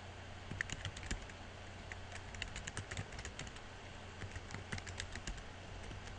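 Quick, irregular clicks of fingers typing on a computer keyboard, fairly soft and close, running steadily over a low hum with no voices.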